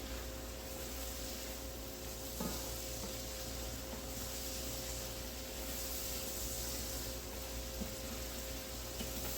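Spices with smoked paprika sizzle in a pan, a soft, continuous frying hiss at low level with a faint scrape partway through, close with no talking.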